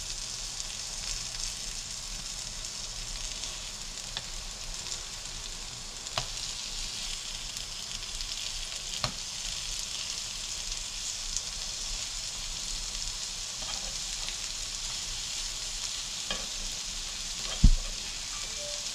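A chapli kebab, bound with besan, fries in a pan just after being flipped, with a steady, even sizzle throughout, a few faint spatters and scrapes, and one louder clatter near the end.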